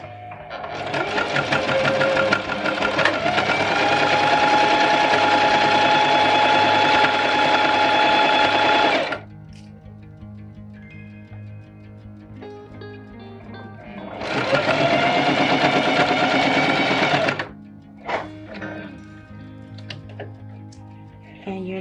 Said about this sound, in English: And you'll notice that I switched to my heavy duty machine, which is my manual Singer that I have just for my heavy duty projects